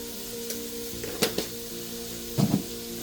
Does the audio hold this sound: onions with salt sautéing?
yes